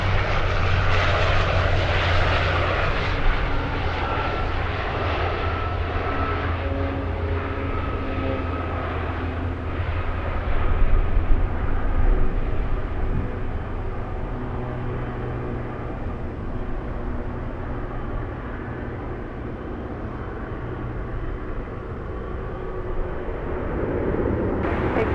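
An aircraft departs Anchorage airport with a loud, sustained engine roar that holds steady and then slowly fades, with no talk over it.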